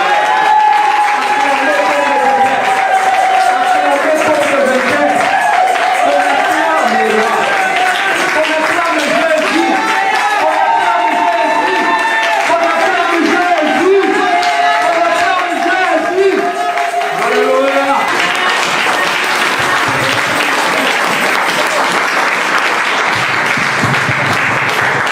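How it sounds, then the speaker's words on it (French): A church congregation breaks into loud, sustained applause and cheering that fills the room without pause for the whole stretch. "Il faut acclamer comme de vainqueur."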